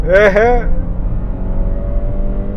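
A 2019–2021 Toyota RAV4 launches hard from a standstill toward 100, its engine a steady low droning rumble from inside the cabin, after a short spoken remark at the start.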